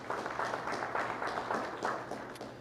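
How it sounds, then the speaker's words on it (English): At a town hall meeting, an audience applauds a district staff member with a short, moderately sized burst of clapping, fairly quiet and steady over a low hum. "Definitely deserves a round of applause"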